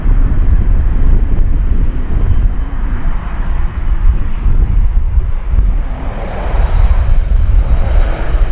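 An airliner takes off from runway 4 left at JFK airport, its jet engines producing a loud, steady roar with wind buffeting the microphone throughout.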